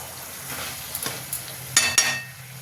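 Water poured into a pan of frying spiced banana flower, prawns and potatoes: a constant sizzle with rising bursts of hissing and a few sharp spits near the end, no talking.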